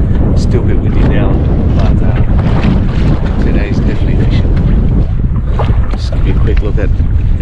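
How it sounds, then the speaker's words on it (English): Strong wind buffets a boat moored off the reefs near 1770 after a storm, a loud, steady roar of gusts hitting the microphone, with a faint voice buried in the noise. "still a bit windy now."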